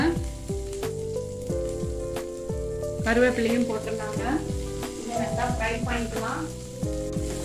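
Shallots, red chillies and curry leaves sizzle and crackle in hot oil for a quick sambar, a continuous frying hiss with stirring knocks and sharp pops, and a few faint tonal sounds in the background.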